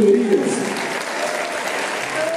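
An audience applauds at a music band gathering honoring a musician, a continuous even patter of clapping with a voice briefly heard over it at the start.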